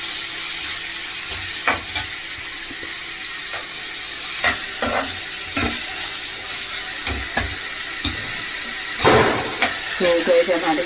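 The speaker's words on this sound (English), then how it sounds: "So let me just saute this a little." Onions sauté in a pan for an egg pepper masala, giving a steady hiss and sizzle with occasional scrapes and stirring clicks from a utensil, close up.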